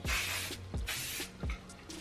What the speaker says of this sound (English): I will just spray a little bit of hairspray just for them to hold this shape